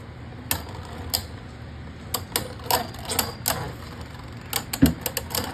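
Beyblade Burst spinning tops battle in a plastic stadium, giving sharp irregular clacks and clicks of collisions over a faint continuous whir, fairly close and clustered in bursts.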